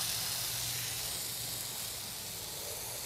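Bacon sizzles on a Blackstone griddle beside burgers, giving a constant, bright hiss of spitting fat that holds steady throughout.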